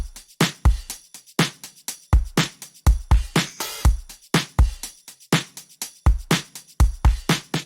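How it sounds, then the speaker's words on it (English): A full drum groove with kick, snare and hi-hats in a steady pattern, plus a brief splashy cymbal swell midway. "The drums all together sound like this."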